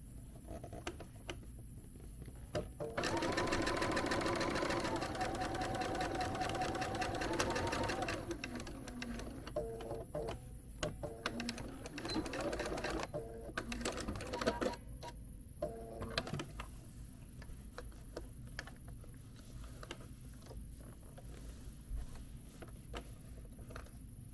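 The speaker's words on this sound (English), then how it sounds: "So I'm going to stitch here." A sewing machine stitches quilt binding in rapid bursts of needle chatter, loudest early on, then continuing in shorter, quieter runs with brief pauses, close to the listener.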